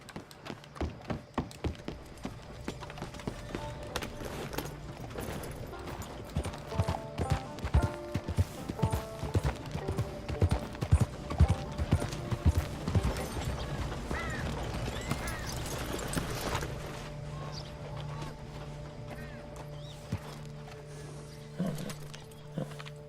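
Horse hooves clip-clopping in Red Dead Redemption 2, a run of irregular, moderately close thuds that quickens into a busier patter mid-stretch before thinning to a few scattered steps near the end, with faint game ambience beneath.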